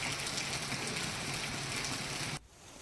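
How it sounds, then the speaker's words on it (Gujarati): Heavy monsoon downpour in the town of Jafarabad, a dense roaring hiss of rain that continues steadily and then cuts off abruptly near the end. "જાફરાબાદ શહેરમાં ધોધમાર વરસાદ જોવા મળ્યો"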